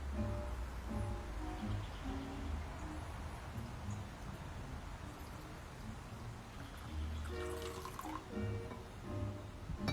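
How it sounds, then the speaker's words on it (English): Water poured into a bowl that holds a metal flower frog, set up for a floral arrangement. A faint, steady run of liquid continues throughout, with no voices. "then we're gonna fill it with water"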